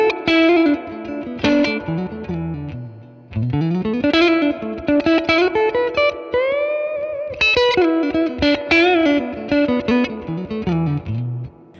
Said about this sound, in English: Let's switch to the neck pickup and split the humbucker into a single coil